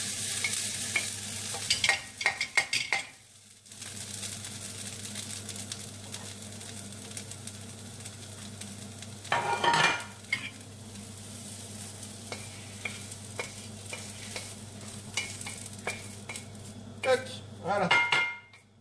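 Lardons frying in a pan give a continuous sizzle while a utensil stirs and scrapes them, with clinks against the pan and louder bursts of stirring near the start, middle and end.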